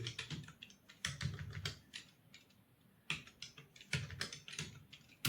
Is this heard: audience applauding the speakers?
no